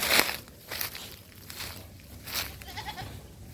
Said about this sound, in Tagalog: Alaga ka lang kambing si Justin